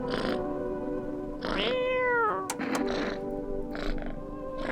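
A cat in a survival video game meows several times, drawn-out rising and falling cries with brief gaps, heard over a steady low background hum.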